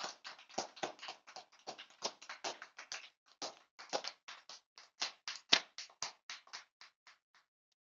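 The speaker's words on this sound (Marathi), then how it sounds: "जोरदार टाळ्या होत्या यांच्यासाठी" Applause for prize winners at a weekly lucky draw event, a run of crisp, uneven claps from a small group, fairly close, tapering off into silence.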